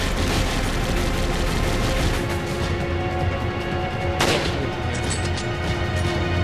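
Rifle fire in the video game Resident Evil 5, with dense, loud rumbling gunfire throughout and one sharp, distinct shot cracking out near the end, almost no talk.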